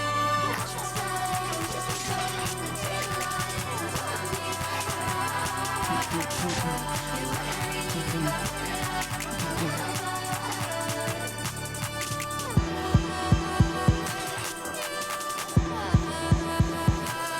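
Deep 808 bass drums pulse through a song, booming low hits under layered synths, with a run of rhythmic thumping hits near the end of the passage.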